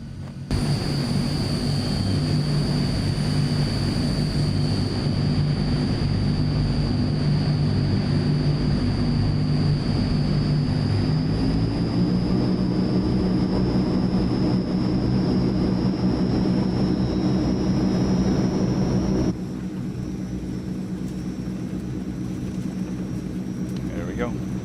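Loud, steady drone of Transall C160 turboprop engines during takeoff in Microsoft Flight Simulator, with a high whine holding throughout and the roar rising partway, then dropping in level near the end; a voice talks over it.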